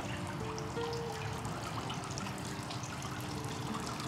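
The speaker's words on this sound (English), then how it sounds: "Nice little fountain." A small ornamental water fountain trickles steadily outdoors in Old Town Kissimmee, Florida, a soft continuous dribbling wash with faint background ambience and no talk.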